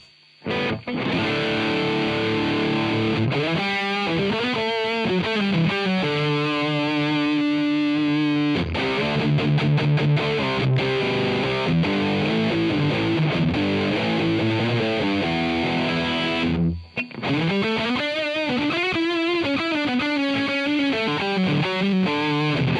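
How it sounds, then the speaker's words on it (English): Electric guitar played through an AmpliTube 5 diode distortion with the tone turned all the way up, giving a loud, saturated, buzzy sustained tone with chords and riffs that run almost without a break, apart from brief pauses. "Tone distortion all the way up."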